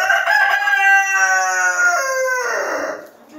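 Roosters crow loudly and close by in a poultry shed kept for laying hens, one long drawn-out call filling most of the moment and trailing off, with no talking.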